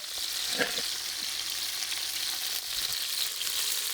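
Onions sizzle steadily in a hot pan while cooking for chicken fry, a bright, even hiss with a couple of faint clinks near the start, no one speaking.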